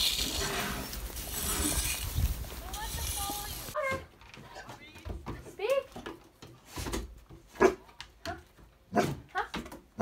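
Puppies yip, bark and whimper in short, uneven bursts close by, with a stretch of talking and indoor commotion at the start before the small dogs' cries take over.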